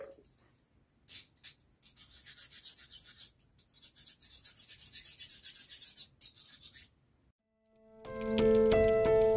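A blade scrapes rhythmically back and forth on a stone, gritty rasping strokes close by, then a few chimed musical tones at the end.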